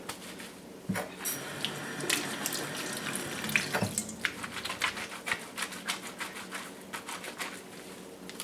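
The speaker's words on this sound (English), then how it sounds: "I will just rinse them in cold water and wash them in hot water" A running tap splashes close by as cloths are rinsed under the cold-water stream, with irregular wet slaps and rustles of fabric over the steady flow and no talk.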